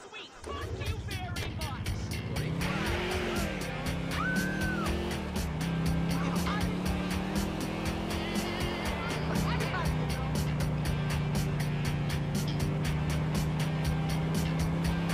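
A car in the GTA IV video game accelerates hard with a rising, shifting engine note and occasional tire squeal, heard loud and continuous with a voice talking over it.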